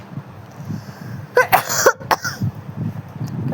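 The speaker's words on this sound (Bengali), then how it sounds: "কাশি পেয়ে গেল।" A person coughs and clears the throat close by, with a couple of sharp bursts in the middle and low rough throat sounds around them, no speech.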